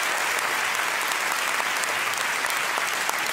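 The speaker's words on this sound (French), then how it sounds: "Est-ce qu'on peut applaudir très fort Guillermo Guy, s'il vous plaît, qui a joué dans le noir?" A comedy show audience gives sustained, even applause to a performer who played in the dark, a dense wash of clapping at moderate level throughout with no speech standing out.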